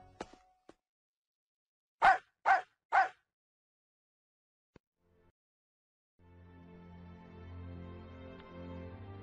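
An animated dog gives three quick, sharp barks in a row, close and clear against near silence, followed later by a low sustained tone.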